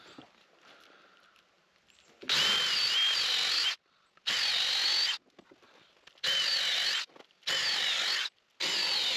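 A power drill bores into a wood log for shiitake mushroom growing in four loud, sustained bursts, each lasting about a second, separated by short quiet pauses.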